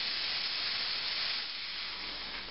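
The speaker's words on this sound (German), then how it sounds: "Ein richtig schöner trockener Dampf." Dry steam jets from the steam wand of a Quick Mill Monza Deluxe espresso machine in a powerful, steady, close hiss that holds for about two and a half seconds with no talk.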